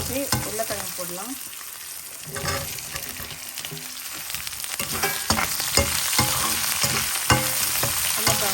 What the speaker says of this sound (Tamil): உருளைக்கிழங்கு கொஞ்சம் லைட்டாக மேலே வதங்கிட்டோம்